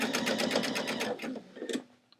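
A sewing machine back-stitches a patch onto thrifted jeans, with a rapid, even needle chatter that runs loud and close for over a second, then slows and stops with a few final stitches.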